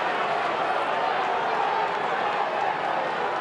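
Broad, steady crowd roar fills a football stadium during an AFL match between Fremantle Dockers and Western Bulldogs, a dense continuous wash of cheering voices with no clear peaks, loud throughout.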